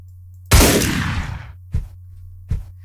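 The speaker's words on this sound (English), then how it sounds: "Pick up the sawn-off shotgun." A sawn-off shotgun fires in the video game Deadbolt with one loud booming blast and a decaying tail, followed by two shorter, quieter thumps over a low steady hum.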